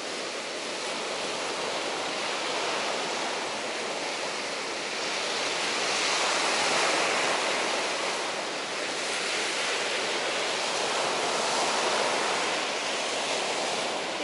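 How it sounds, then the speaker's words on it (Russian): Winter sea waves wash onto the shore at Kuchugury in a continuous roaring surf that swells and eases gently, with no voices. "Насладитесь шумом волн."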